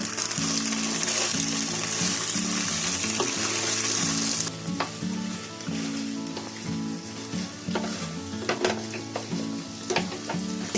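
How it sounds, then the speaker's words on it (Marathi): Hot oil poured over pasta and stirred in a home kitchen, giving a loud steady sizzle that eases after a few seconds into a softer crackle with scraping stirring sounds and no talk. "आता ते पास्त्यामध्ये ओतते. पास्त्यामध्ये ओतून आहे ना ते चांगलं ढवळून घ्यायचं"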